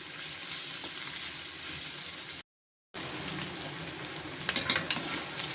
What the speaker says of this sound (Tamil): முட்டைக்கோசு இந்த அளவுக்கு நமக்கு நல்லா வதங்கி வந்துருச்சு